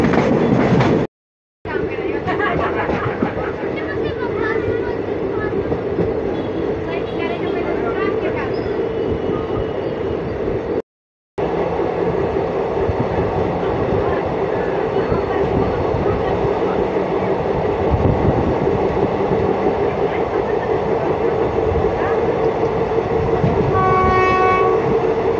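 Saptagiri Express running through Perambur station on the way from Chennai to Tirupati: a continuous loud rumble and rattle of the moving train, with a horn sounding near the end and voices faintly underneath.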